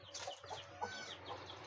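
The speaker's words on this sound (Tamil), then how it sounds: "சேவலும் இருக்குது, கோழி இருக்குது," Native country chickens, hens and roosters on a small dairy farm, cluck softly in a quick, scattered series, faint and somewhat distant.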